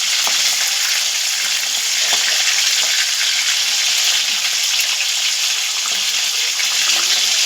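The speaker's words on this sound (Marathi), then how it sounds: "तेलामध्ये कोळंबी किती व्यवस्थितपणे फ्राय झालेली आहे" Shrimp frying in hot oil in a pan give a steady, close, bright sizzle with a constant hiss and occasional soft pops and spatters, with no talk over it.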